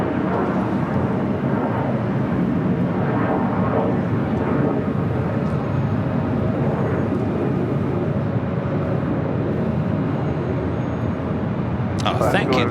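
A Frontier jet in Lynx livery departs LAX, a steady broad engine roar rumbling throughout at moderate distance, with a short sharper burst near the end.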